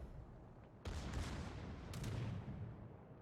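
Secondary guns of an Iowa battleship firing at a destroyer in World of Warships, heard as a run of sharp overlapping cannon reports with a sudden loud burst and further blasts over a steady rumbling battle background.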